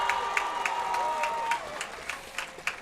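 A large crowd murmurs and cheers at a high school varsity football game at Rice Lake, with scattered claps and whistles rising over steady crowd noise, a sustained tone running underneath.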